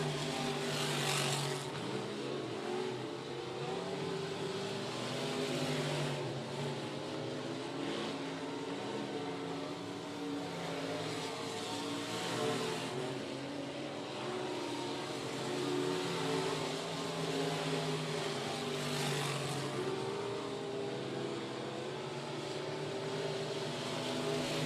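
Race cars lap Sabine Speedway in a continuous engine roar with pulsing surges as cars pass, heard from a distance and steady throughout, with no voices.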